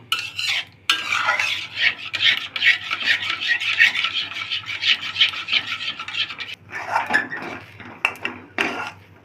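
Semolina, water and salt being stirred into a stiff dough in a pan, a steady scraping and rasping of a spoon against metal that runs continuously, breaking briefly near the end.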